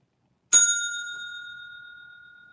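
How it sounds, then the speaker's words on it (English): A single bright bell strike rings out as a trivia point marker, starting sharp and holding a long, clear decaying tone alone in quiet; only one ring is evident rather than two. "That's 2 bells."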